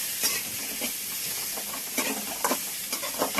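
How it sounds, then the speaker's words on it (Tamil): Onions and tomatoes sauté in a pan for a soya chunk curry, a bright continuous sizzle punctuated by repeated spoon stirs and scrapes, with no voices. "இதுலயே தக்காளியும் வெங்காயமும் வதக்கிடுறோம்னா"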